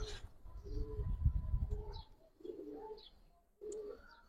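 Giribaz pigeons give soft, low cooing calls in several short phrases, close by, with a deeper rumble in the first half and brief pauses between calls; no talking.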